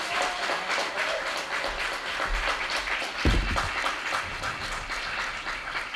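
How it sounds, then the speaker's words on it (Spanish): Dense, steady applause from a large theater audience, sustained throughout at even loudness, with a low thump partway through. "fuerte el aplauso para los chicos"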